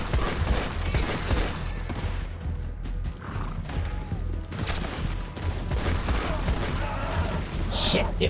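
Gunfire in Red Dead Redemption 2 Online rings out in a busy in-game mix of rapid shots and mechanical clatter, with a player's voice mixed in.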